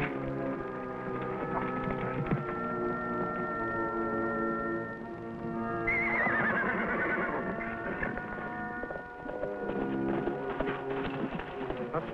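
A horse whinnies loudly over a dense bed of harmonic music, its cry rising and trembling midway through, in a 1955 Western TV show.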